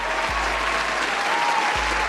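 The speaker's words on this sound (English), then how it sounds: "Give her a round of applause." An audience applauds in a steady, dense wash of clapping that lasts about two seconds, close and fairly loud, with a low hum beneath it.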